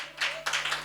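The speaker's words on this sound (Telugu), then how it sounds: "కొట్టు చప్పట్లు గట్టిగా." An audience claps its hands in a brief, sharp burst of rapid claps just after a voice.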